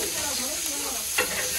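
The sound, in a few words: paneer frying on a tawa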